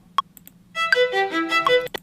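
Embertone Friedlander solo violin sample library playing a quick legato line, a few pitched bowed notes sliding together after a couple of short plucked-sounding blips, close and clear with no talking.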